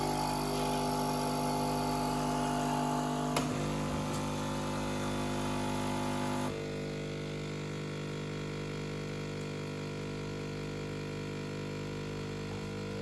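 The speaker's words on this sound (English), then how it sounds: "Next step, tap start to begin the descaling process." Nespresso Creatista Pro coffee machine running its descaling cycle, a steady mechanical hum with tonal whine that drops to a quieter drone midway after a couple of clicks, no voices.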